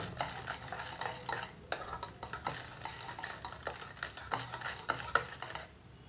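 Batter for an oven-free cake is mixed in a bowl, producing quiet, quick rhythmic stirring with light scrapes and clinks of the utensil against the bowl, up close and without speech.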